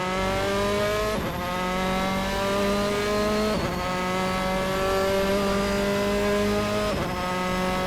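Race cars roaring around an oval track in a racing video game, a steady high engine drone that rises in pitch through repeated gear shifts, about three upshifts, loud and continuous.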